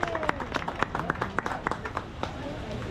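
Audience applause following a mariachi performance of a traditional son at Epcot, with scattered claps and cheers over crowd chatter, fairly distant and moderate in level.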